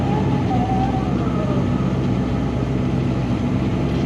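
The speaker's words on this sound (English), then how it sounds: "It's like a loud whining noise from the back" A 1000-horsepower street car on the road, with a loud whining noise coming from the back over a constant, heavy engine and road drone that holds steady throughout.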